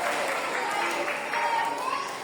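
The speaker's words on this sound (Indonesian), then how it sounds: "Tepuk tangan buat tentara Islam." An audience claps continuously at an Islamic preaching magic show, a dense wash of applause mixed with crowd voices.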